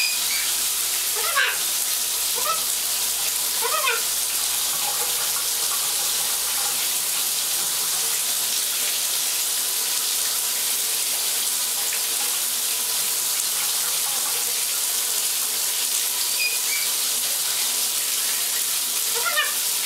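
Shower water running steadily as a pet bird is bathed, a constant hissing spray throughout, with a few faint chirps over it.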